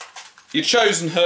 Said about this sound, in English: Apologies for the dogs in the background.